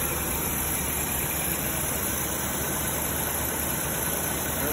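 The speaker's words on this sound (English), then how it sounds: "We're in our first start. Nice and quiet." A 1986 Toyota 4Runner with a newly fitted engine idles on its first start while leaking coolant beneath the intake manifold, a steady, even drone that holds unchanged throughout, close and moderately loud.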